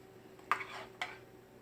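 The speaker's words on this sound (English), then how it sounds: "So I'm just going to actually stick this spoon in here to make sure everything" A metal spoon clinks twice against a pot while being stuck into homemade yogurt mixture, two short close taps over a quiet background.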